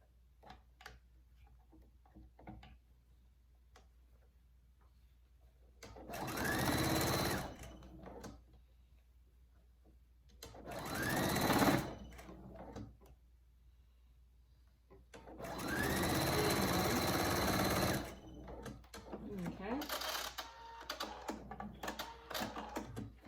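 Sewing machine stitching a fabric rescue pouch for a microbat, running in three long bursts of rapid needle clatter separated by pauses with small handling ticks and clicks.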